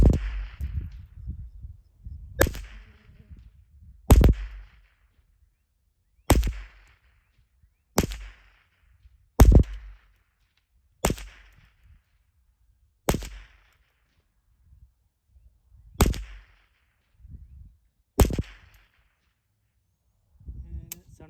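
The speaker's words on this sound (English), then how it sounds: "Let's shoot for a 10 round group" A Ruger 10/22 target-build rifle fires about ten sharp, fairly loud shots at an outdoor range, spaced roughly two seconds apart with brief echoing tails and quiet gaps between.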